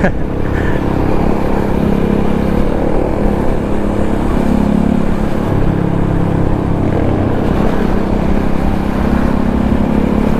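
A steady, loud engine drone from a motorcycle on the move along a road in Alaminos, Laguna, constant and unbroken throughout with road rumble underneath.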